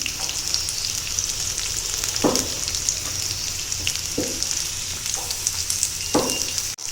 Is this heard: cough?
no